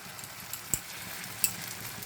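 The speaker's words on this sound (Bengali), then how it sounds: "ওই ডিমটা ঝুড়ো ভাজাটাও দিয়ে দিলাম, দেখো তেলের গরম তেলের মধ্যেই দিয়ে দিলাম" Beaten egg frying as a scramble in hot oil, a soft continuous sizzle with a couple of faint utensil clicks, brief and fairly quiet.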